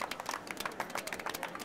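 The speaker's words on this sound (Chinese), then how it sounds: "哎，鼓掌鼓掌！" A small group claps, quick irregular hand claps heard fairly faintly from a short distance, with no talk over them.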